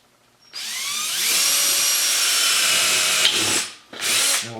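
A power drill whirs steadily at close range for a few seconds, boring a hole over a steel table, briefly cuts out, then spins up again.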